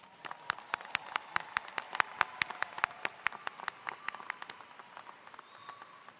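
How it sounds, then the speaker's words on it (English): Scattered applause at a university's fall commencement ceremony, individual hand claps distinct and sharp at a steady pace, moderately near and thinning slightly toward the end, with no talk over it. "Let's give her another round of applause."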